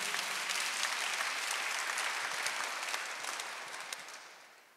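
A church congregation applauds together during a Sunday worship service, a dense steady wash of many hands clapping at once that fades slightly toward the end, with no talking over it.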